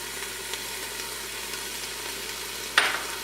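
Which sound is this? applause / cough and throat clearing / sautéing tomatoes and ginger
sautéing tomatoes and ginger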